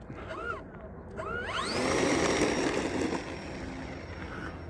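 An NX8 Plus RC airplane's electric motor whines with rising and falling pitch as the throttle changes, a buzzing drone that swells loudest midway, then eases back, heard from moderately close outdoors with no clear speech.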